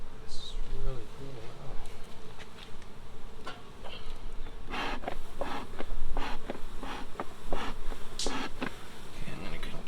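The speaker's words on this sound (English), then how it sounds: "there are a lot of bees in the hive" A dense, steady hum of many honeybees buzzing close by in a hive, with a few brief clicks and knocks over the drone.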